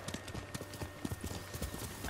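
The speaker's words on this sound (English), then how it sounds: "Yeah, that's my horse." Horse hooves in the Ghost of Tsushima video game clop in a steady, rapid galloping rhythm, loud and close, over a constant background hum.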